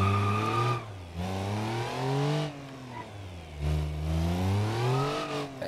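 A Wigeon LX car in BeamNG.drive drives with its engine revving up and easing off in repeated rising and falling sweeps, close and steady, with no one talking.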